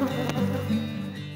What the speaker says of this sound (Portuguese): E as minhas abelhas estão lá.